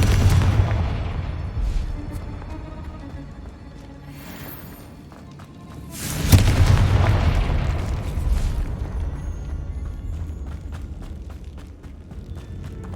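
Confringo explosion spells in Hogwarts Legacy, heavy booming blasts with deep rumbling tails, one big burst midway that swells and slowly fades beneath ongoing game ambience.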